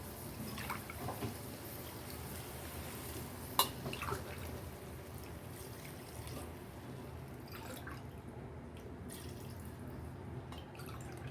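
A steady trickle of water runs continuously into a pot, close by, with a few small clinks and no voices.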